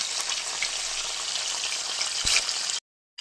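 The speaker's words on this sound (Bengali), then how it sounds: "এই দেখুন বন্ধুরা, মাছ ভাজা চলছে আমাদের, খয়রা মাছ।" Khoira fish frying in a pan of oil, a close, steady spitting sizzle that runs unbroken for almost three seconds before cutting to silence, with no talk.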